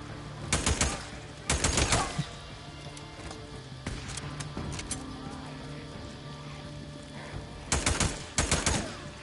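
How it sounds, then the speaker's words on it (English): Bursts of gunfire in Days Gone: short rapid volleys of loud shots in a few separate clusters, with quieter ambient game noise between them. "Are you shooting me now?"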